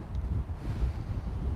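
Low, rumbling wind buffets an outdoor microphone in a steady muffled roar, moderately loud, with no voices.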